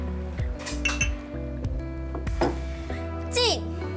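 Glasses clink together sharply several times in a celebratory toast, bright ringing taps scattered over lively talk and background music at a dinner gathering.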